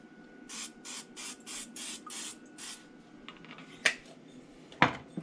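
Cooking oil is sprayed into a pan in six short, even hissing bursts, followed after a pause by two sharp metallic clinks of the can against cookware.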